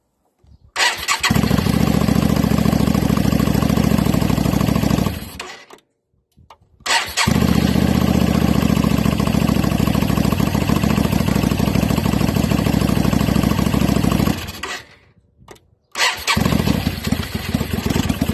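A motorcycle fitted with a 3D-printed single-carb conversion inlet manifold starts and runs loudly up close, holding a steady idle with throttle blips, cutting out briefly twice before restarting.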